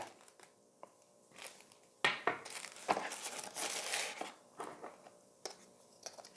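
Plastic bag crinkling and rustling up close, in bursts of varying loudness with brief pauses, no voices.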